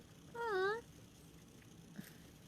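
A house cat gives a single clear, drawn-out meow up close in a quiet room, followed by a faint tick and soft background hush.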